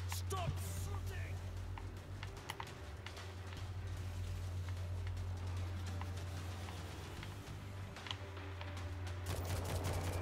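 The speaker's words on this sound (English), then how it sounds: "Stop shooting!" Gunfire rattles through a World War Z match set in Moscow, rapid bursts of shots mixed with a steady low hum and game ambience, moderately loud, with players talking over it.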